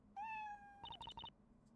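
A cat meows in the Professor Layton vs Phoenix Wright video game: one long, clear, rising meow, then a quick run of short, bright chirping game sound effects, with no talk.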